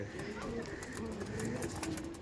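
Panjabi cargo pigeons coo softly in a loft, low murmuring calls repeating under a faint background over a couple of seconds.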